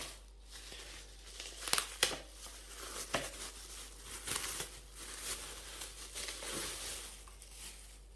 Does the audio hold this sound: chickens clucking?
no